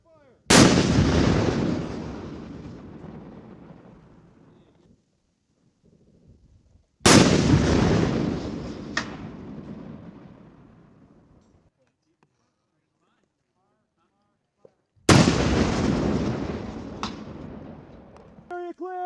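Three heavy, booming shots ring out about eight seconds apart as an M3E1 MAAWS recoilless anti-armor weapon fires on a range. Each loud blast trails off into a long, rolling echo before the next shot.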